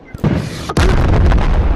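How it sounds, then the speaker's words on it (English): An RPG rocket launcher firing in the video game Animal Company, two sharp bursts, a first blast followed half a second later by a louder booming explosion with a short rumbling tail, close and loud. "I have an RPG! RPG and RPG ammo go together!"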